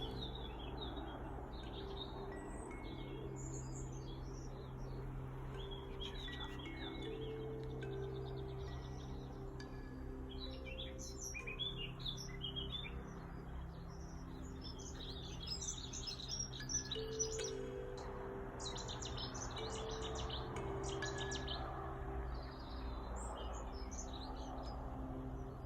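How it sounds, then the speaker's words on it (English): Birdsong in scrubby undergrowth: a distant rapid rattle of a lesser whitethroat, fluting notes of a blackcap and a quick babble of a dunnock, with overlapping chirps and calls throughout over a soft steady background. "We had the distant rapid rattle of a lesser whitethroat, the fluting notes of the blackcap, a quick babble of the dunnock,"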